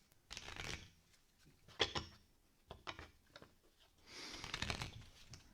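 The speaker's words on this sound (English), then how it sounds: "Here's a new deck. Shuffle it, Mitch." A new deck of playing cards is shuffled in several quick, close bursts of riffling and snapping, separated by short pauses.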